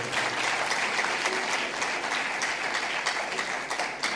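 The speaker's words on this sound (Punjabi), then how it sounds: "ਤਾਲੀ ਮਾਰੀਏ ਜ਼ੋਰ ਦੀ" A sermon congregation bursts into loud, sustained applause, dense steady clapping from many hands filling the whole moment without pause.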